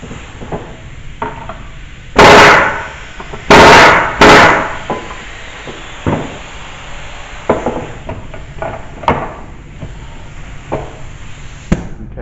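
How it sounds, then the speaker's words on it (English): Air hammer with a chisel works at an old 1966 Mustang valve cover, firing in three loud, close bursts, followed by scattered lighter taps and knocks. "As you can see, I'm going to be using my air hammer with a chisel."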